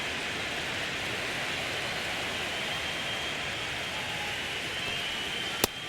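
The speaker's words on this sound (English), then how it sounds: "the field's not going to be able to hold up if the rain gets any worse than this" Rain falling on a baseball field in a baseball video game, a steady hissing wash that continues evenly throughout, ending with a single sharp click.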